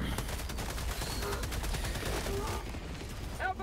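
Continuous automatic gunfire from a standard rifle in Helldivers 2, a steady rapid stream of shots blending into loud battle noise throughout, with a voice talking under the din.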